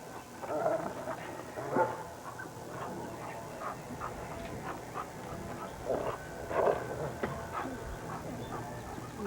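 A dog barks a handful of times at uneven intervals, moderately close, with quieter background noise between the barks.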